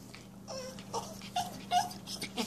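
A dog whimpering indoors: a few soft, faint high whines and whimpers over a low steady hum, with no talk.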